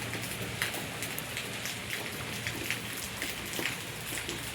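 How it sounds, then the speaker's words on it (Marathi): Steady rain falls outdoors on a green rural landscape, a dense, even patter of drops on surfaces throughout, moderately faint and with no voices. "बघा कसं पाऊस पडतोय."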